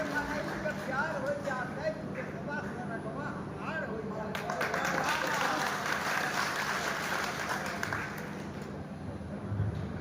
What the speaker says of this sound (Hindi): ताली आप लोग बजाते रहिए तो अच्छा लगेगा।